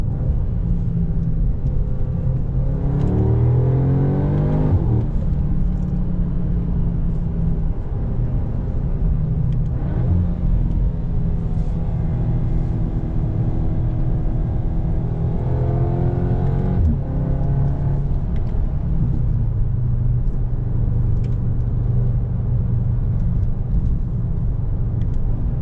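A 2021 Audi S3 sedan accelerates hard, its exhaust rising through the gears in several sweeping pulls with brief dips at shifts. The engine and road rumble stay steady and close, with no talk.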